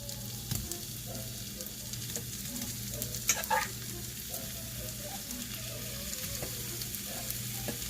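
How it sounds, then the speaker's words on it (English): Shrimp frying in garlic butter in a pan give off a steady, fairly loud crackling sizzle throughout, with a low background hum and a few brief clinks partway through. "Okay, add your shrimp in there."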